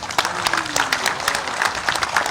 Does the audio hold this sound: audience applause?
yes